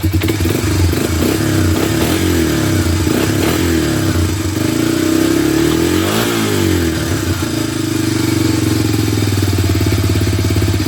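Honda Big Red three-wheeler engine running steadily with the choke off after carburetor work, loud and close, with a continuous rough idle and a brief rise in revs partway through.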